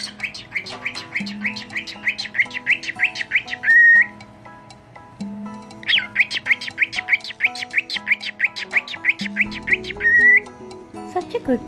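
A pet cockatiel gives rapid bursts of harsh squawks and chirpy whistles, close and loud, in two long runs that each end in a sustained pure whistle note.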